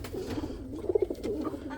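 Chinese owl pigeons giving soft, low cooing calls, a few short rounded coos close by over a faint background hum.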